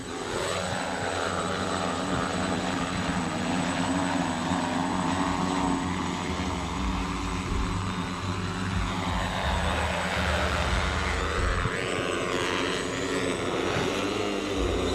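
A flying car lifts off as a flying taxi, giving a continuous loud propeller-like engine roar with a steady hum that holds throughout, close and dominant with no voices.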